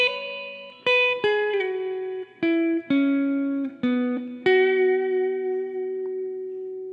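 A guitar riff played slowly, single clean notes plucked one at a time with pauses, each ringing out and sliding between pitches, alone.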